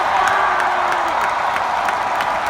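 A wrestling crowd at WWE Monday Night Raw in Seattle roars, cheers and applauds in a dense, continuous wash of noise with no break, loud and enveloping.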